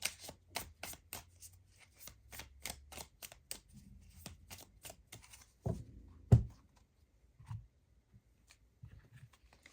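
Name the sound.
shuffling tarot cards from The Witch's Secrets deck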